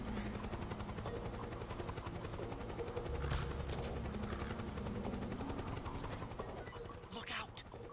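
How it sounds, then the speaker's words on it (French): Helicopter in the Metal Gear Solid 4 game, a steady rotor drone under bursts of gunfire, with people talking over it. "C'est quoi ça? Il y a un hélico."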